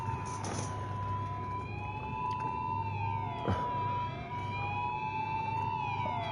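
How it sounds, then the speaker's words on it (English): An ambulance siren wails in the Gran Turismo 7 racing game during a Renault Clio Cup lobby session. The rising and falling tone runs steadily for the whole stretch over a low engine-like hum, fairly close and clear. "Somebody phoned ambulance in."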